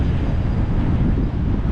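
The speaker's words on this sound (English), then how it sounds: "it's windy" Steady, loud wind blowing across the microphone in the small Andean town of Purmamarca, Argentina, a continuous low rumbling gust with no pauses and no voices.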